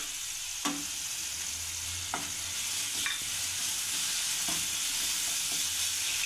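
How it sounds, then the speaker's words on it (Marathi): Beetroot and masala sautéing in a pan for masala pav, a soft continuous sizzle with a few spaced spoon clinks and scrapes, close and fairly quiet, with no voices. "तर हे आपल्याला आता 2 मिनिटं परतवून घ्यायचं आहे।"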